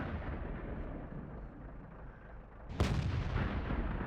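A single loud, close tank cannon shot booms out in World of Tanks, cutting sharply through the steady background rumble of the battle.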